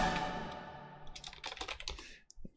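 Typing on a cheap non-mechanical computer keyboard, model KBBL919EB, a quick irregular run of soft plastic key clicks heard up close, with no talk.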